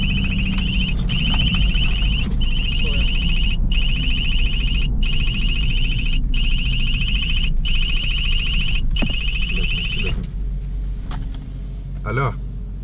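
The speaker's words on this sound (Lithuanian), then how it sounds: "nebuvau dar girdėjęs to palydovinio telefono skambant" Satellite phone ringing loudly and close in a vehicle during the Dakar rally, a repeating electronic tone in about nine even bursts over a steady low engine rumble, stopping near the end.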